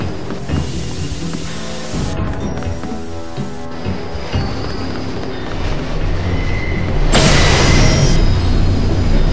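Subway train in the video game Deus Ex, a loud continuous rumble and clatter of rail cars with rhythmic wheel noise, swelling into a louder rushing roar toward the end.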